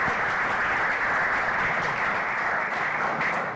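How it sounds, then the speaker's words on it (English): Steady, dense clapping fills a symposium hall on Black male development, a full audience applauding continuously without a break and no voices over it. "I want you to give yourselves a round of applause"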